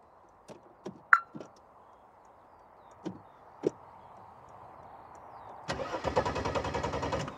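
Mercedes W124 coupe, a long-parked barn find, with a few clicks and knocks before the starter cranks the engine in a fast rhythmic churn that grows steadily louder, close and clear with no talk.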